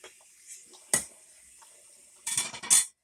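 Kitchen dishwashing: a clink of dishes and cutlery, then a burst of running rinse water and rattling plates near the end, close and fairly loud against a quiet room.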